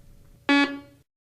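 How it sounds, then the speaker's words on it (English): A Garrett PD 6500i walk-through metal detector sounds a single loud, buzzy electronic tone as it powers on, lasting about half a second and then cutting to silence. "Now, turn the detector on."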